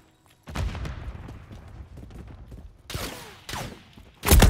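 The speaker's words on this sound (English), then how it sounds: "Taking effective fire!" Video game gunfire in an online shooter match: bursts of shots crackle through most of the stretch, with sharper, louder volleys near the end and no talking over them.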